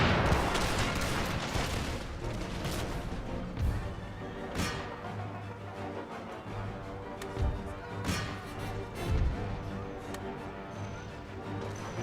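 Massed musket volleys from line infantry on an Empire: Total War battlefield crack out in several sharp, loud bursts amid a continuous roar of distant gunfire, artillery and horses, with no talking.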